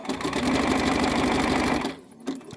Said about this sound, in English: So I'll top stitch that bad boy down here.